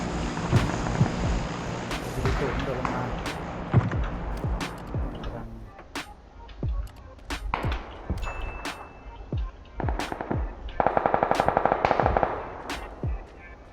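Video game gunfire in PUBG rattles loud and close in rapid automatic bursts and single shots, with a voice talking over parts of the action.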